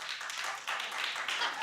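An audience claps steadily at an awards-show recap taping, a dense burst of applause lasting under two seconds with no speech over it.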